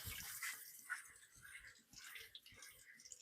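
Tap water splashes over a pack of fresh strawberries being rinsed in a kitchen sink, making faint, uneven gushing and spattering with brief surges.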